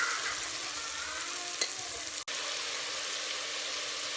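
Masala frying steadily in a pan for a moong dal, a continuous broadband sizzle with light stirring, one brief dropout partway through, no talk.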